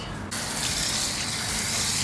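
A car detailing product is sprayed in one continuous burst. A sharp hiss starts after a brief pause and holds loud and steady to the end.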